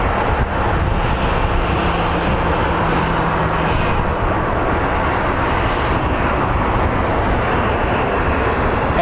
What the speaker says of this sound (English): And we have our Delta flight headed to JFK.